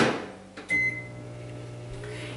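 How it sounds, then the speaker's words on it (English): A microwave oven warming a cup of water for 20 seconds: a click and door thump, then a short beep and the low steady hum of the running oven, close by with no talking. "I'm taking this water and putting it in the microwave for 20 seconds to get it warm enough to"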